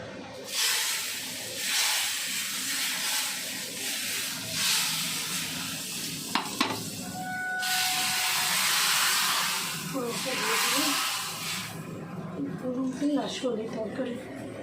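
Whole spices and raw ginger hit hot oil for a water spinach curry, sending up a loud, hissing sizzle that surges in waves. A person talks over the frying throughout.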